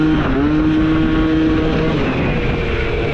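Yamaha Neos scooter engine held at a steady, loud drone while the rider balances a wheelie, a continuous near buzz with a slowly shifting pitch.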